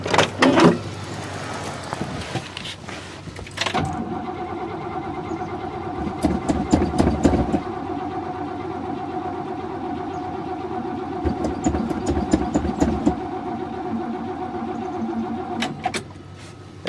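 A 1963 Oldsmobile, jumped from a truck, is cranked after mice were cleared from its air cleaner: a rough burst of cranking, then a steady droning engine-like hum broken by repeated clicks and knocks.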